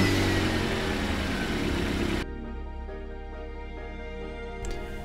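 A Sym NHT 125 motorbike, a small 10-horsepower bike, runs close by with a busy mid-pitched engine note that drops to a steady idle partway through and then briefly rises again.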